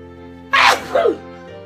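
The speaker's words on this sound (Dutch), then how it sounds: "En als je één keer niest, dan houdt het niet op, mens." A hay-fever sneeze bursts out close and loud in two parts, a sharp explosive blast followed by a shorter trailing gasp, over a low steady background hum.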